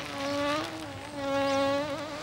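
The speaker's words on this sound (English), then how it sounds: "That's only a bee." A bee buzzing close by, a steady nasal drone that wavers in pitch and swells twice, heard alone in a comedy sketch scene.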